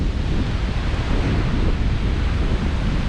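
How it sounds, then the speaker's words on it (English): Choppy waves on Lake Huron in Michigan's Thumb region wash and churn steadily under heavy wind buffeting, a loud, continuous rush with no voices. "As you can see, the water is choppy."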